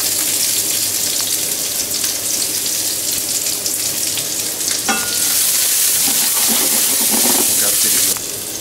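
Onions fry in a pan for Ttoro, a steady loud sizzle running throughout with occasional stirring scrapes and a brief clatter partway through.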